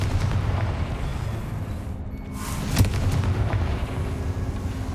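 A Confringo fire spell bursts in Hogwarts Legacy: a dense, rumbling blast texture runs throughout, with a sharper explosive crack near the middle, loud and close with no talk.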